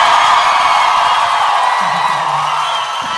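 A crowd of Fluminense fans cheers and whoops in a steady, loud wash of noise with a brief low yell rising near the end, no talking over it.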